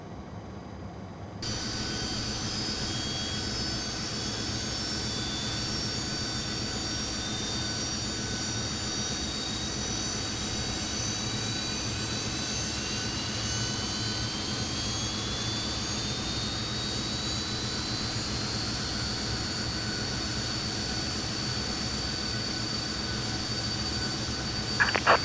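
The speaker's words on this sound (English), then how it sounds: "We have a good engine start." Fokker F28 jet engines running in a flight simulator after engine start, a steady loud roar with high whining tones and a slowly rising pitch sweep, continuous for the whole stretch with no talk.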